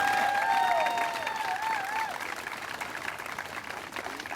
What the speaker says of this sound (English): Let's give this entire community a round of applause.